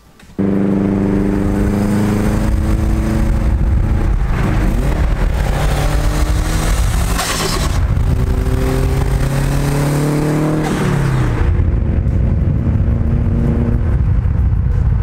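A Subaru WRX with an Invidia N1 exhaust drives alongside, its steady loud exhaust drone rising and falling through gear changes with revving and accelerating passes for about eleven seconds before the engine note tails off.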